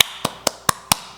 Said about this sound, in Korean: 박수 칠 수밖에 없다는 거예요